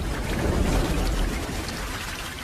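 Heavy monsoon rain pours down steadily in a dense, continuous hiss with a deep low rumble, loud and unbroken throughout, with no voices.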